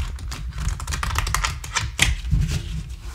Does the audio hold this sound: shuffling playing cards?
yes